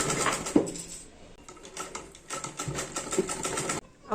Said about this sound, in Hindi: इसमें एक बड़ी सिलाई लगा लेते हैं।